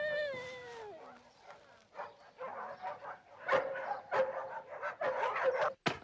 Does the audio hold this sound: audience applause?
no